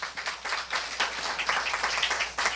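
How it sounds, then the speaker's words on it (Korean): A church congregation at a Korean prayer worship gathering claps in applause, a steady, lively patter of many hands that continues throughout with no one speaking. "우리 주님께 박수로 경배하십시다."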